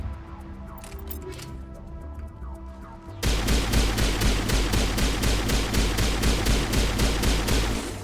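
Sustained rapid gunfire from weapons in the Mass Effect 1 video game, a steady rhythmic burst of shots that starts after a few seconds of quieter game ambience and continues loudly to the end.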